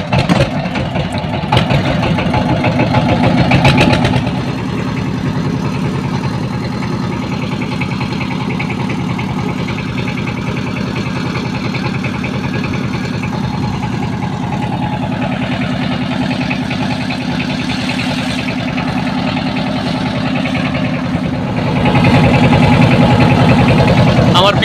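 A river boat's engine at Chandpur Boro Station runs with a steady, close, rumbling drone throughout, while people talk over it.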